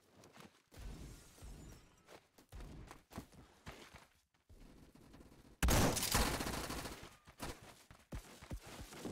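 A grenade explodes in a first-person shooter video game, landing as a sudden loud blast in the middle of scattered gunfire and clattering impacts, with the din lingering for a few seconds afterward.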